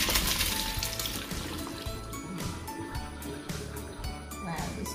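Sweet fruit juice drained straight from a container while making a Filipino fruit salad, pouring in a continuous liquid stream with small clinks and splashes, close by.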